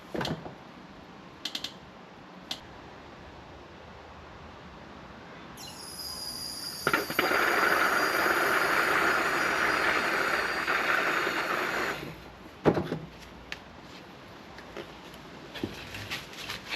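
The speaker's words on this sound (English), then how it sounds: "So, oil pump right here. Gonna open the valve." Oil pump on a BMW E61 xDrive running with its valve opened, a steady mechanical whir lasting several seconds that starts and stops abruptly over quiet workshop background.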